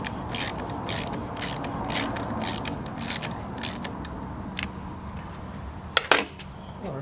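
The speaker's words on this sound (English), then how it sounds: "Now I'm going to tighten these back down" A ratchet wrench tightens the carburetor bolts on a Murray lawnmower with a Briggs & Stratton E-Series 4.50 HP engine, giving repeated short clicking bursts in a steady rhythm, then a pause and a couple of sharper clicks near the end, with no talk.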